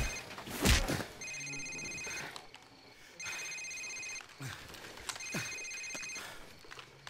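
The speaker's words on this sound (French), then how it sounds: "c'est son portable!" An electronic mobile phone ringtone in Call of Duty 4: Modern Warfare trills in repeated bursts, about three rings with pauses between, over faint background noises and a thump at the start.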